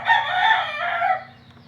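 Rooster gives one loud, close crow lasting over a second at a cockfight sparring session, fading into quiet background with a low steady hum.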